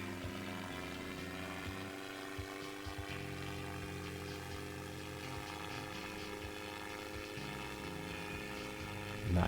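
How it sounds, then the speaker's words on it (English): Steady aircraft propellers in a video game takeoff hum in a continuous droning tone, moderately loud and unchanging, with a brief louder rise at the very end. "Then we turn the propellers back on, and then we just go back up."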